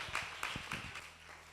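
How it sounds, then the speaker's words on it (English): Faint, scattered claps from a small seminar audience at a youth business event, a few separate hand claps spread across a quiet room rather than a full ovation. "A round of applause."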